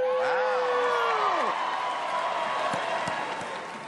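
Audience on a talk-show stage cheering loudly, with whoops and a dense crowd roar that swells at first, then settles into a steady, fading wash of noise.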